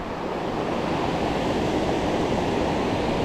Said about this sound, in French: la rivière.